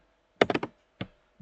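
Keys clicking on a computer keyboard while setting up routing in Cisco Packet Tracer: a quick run of four taps, a pause, then a single firmer press like Enter, and one more tap at the end, close and clear.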